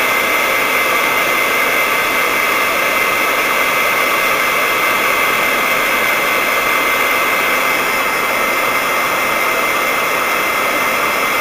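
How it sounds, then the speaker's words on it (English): Steady broadband blowing roar of a heat gun held close and kept moving while it warms liquid Sculpey polymer clay, continuous and even with no talking. "Just keep your heat gun moving."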